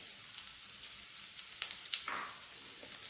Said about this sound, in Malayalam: നല്ലതുപോലെ ഇത് വഴറ്റി കൊടുക്കാം.